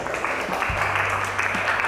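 A classroom of students gives steady, moderate applause, a continuous patter of clapping hands at middle distance with faint voices mixed in.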